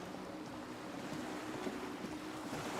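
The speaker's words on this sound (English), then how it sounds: "The skiff is swaying on the waves by the dock." Water lapping against a swaying skiff moored by a dock in the Disco Elysium video game, a steady low wash of waves with soft wind noise, even and continuous throughout without any voices.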